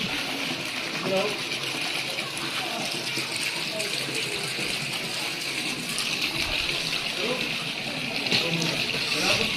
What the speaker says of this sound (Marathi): कुंडामध्ये बरेच जण आंघोळ वगैरे पण करतायत.